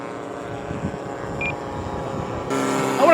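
A CY F8F Bearcat RC plane with an 84-inch span drones steadily in flight, its engine tone holding even and then swelling noticeably louder near the end.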